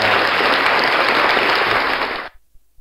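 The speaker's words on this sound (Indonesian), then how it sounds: "kemudian tepuk tangannya" Dense clapping applause played as a preset effect through a V8 sound card, loud and steady for about two seconds before cutting off abruptly to near silence.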